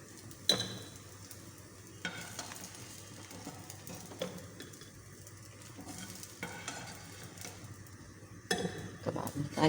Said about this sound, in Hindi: कबाब निकाल दिए मैंने, इसको सेक लेते हैं।